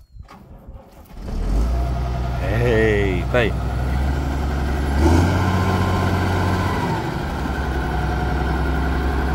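A Valtra 1780 tractor hitched to a Baldan planter runs with a steady, loud, low engine drone that starts after a brief rustle and continues throughout. Someone speaks briefly over it.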